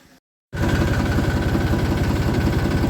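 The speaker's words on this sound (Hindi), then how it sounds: "चलते हैं फटाफट ट्रैक्टर लेके।" A tractor engine starts up after a brief silent gap on a foggy morning and runs steadily, a loud, close, pulsing low rumble with a constant idle-like beat and no talking over it.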